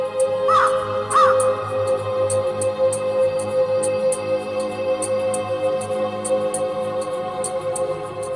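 A raven caws twice, loud and close, early on in a stage drama, followed by a steady electronic hum and faint ticking rhythm with no speech.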